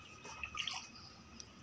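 Water is poured out as an offering during a Hindu ancestral rite (shraddh) at home. It comes as faint, soft drips and small splashes, with a few brighter spatters, all quiet and close.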